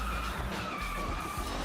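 A DeLorean in a racing video game, a loud continuous engine drone with tires skidding and squealing throughout a short stretch of driving.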